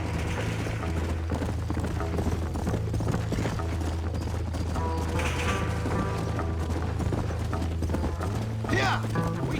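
Horse hooves clip-clop steadily in Red Dead Redemption, a continuous rhythmic beat under a dense game mix with engine-like drone, creaks and a brief whinny, and a voice speaking over it.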